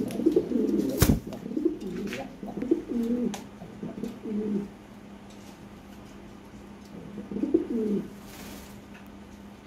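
A pair of white Lahore pigeons coo in low, throaty bursts, one long phrase at the start and another shorter one later, close by, with a few sharp ticks and clicks between.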